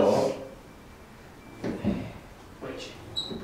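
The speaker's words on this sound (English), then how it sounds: "Close the door," A narrowboat's Morso Squirrel log burner door being pushed shut, with a few soft, close clunks and a small metallic click at the end, muffled by its fire rope seal, over quiet room tone.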